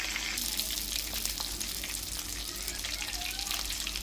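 Rohu fish pieces frying uncovered in a pan over a low flame, a steady close sizzle with crackling bubbles, with no talking.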